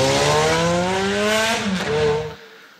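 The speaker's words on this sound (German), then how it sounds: "Ja, das ist jetzt eine flache Kurbelwelle anstatt einer gekröpfte Kurbelwelle," An engine with a flat-plane crankshaft gives a Ferrari-like, high-pitched, pulling howl, revving loudly with rising harmonics for a couple of seconds before tapering off, with no voices over it.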